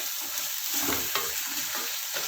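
Mutton liver fries in a pan with a dense, continuous sizzle and crackle, heard close up and alone with no talking.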